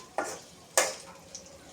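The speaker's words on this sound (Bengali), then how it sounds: "চিংড়ি মাছ আর পেঁয়াজ ভেজে নিলাম।" Shrimp and onion frying in a pan for a snake gourd chorchori, with two distinct stirring scrapes of a spatula rising over a soft background sizzle, close and brief.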